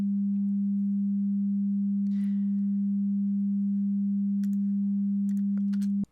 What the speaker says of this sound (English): the 200 hertz sine wave